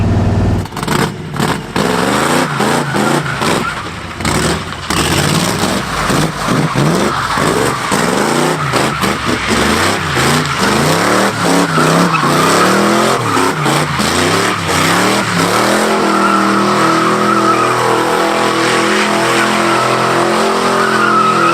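A project station wagon, a cheap sleeper revived to daily-driver condition, does donuts, its engine revving hard with repeated rising and falling sweeps while the tires skid and squeal loudly and continuously up close.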